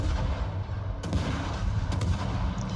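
Ship guns fire at an enemy Ranger in a naval battle video game, several sharp booming shots, including one at about one second and another near two seconds, over a continuous rumbling bed of engine and sea noise.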